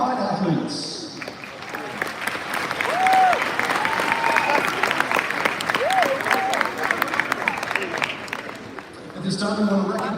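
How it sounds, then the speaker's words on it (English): A crowd applauds the 2024 Combine athletes at the U.S. Army Bowl, with steady clapping and murmuring that runs the full length and swells slightly in the middle. Brief announcer tones break in near the edges. "let's begin with a nice round of applause for the young men already seated in the room"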